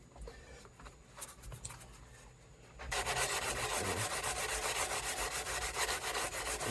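Quiet handling noises give way to loud, steady back-and-forth sanding of the fret ends on a Gretsch Streamliner guitar with a sanding block, a close, rhythmic rasping that continues to the end.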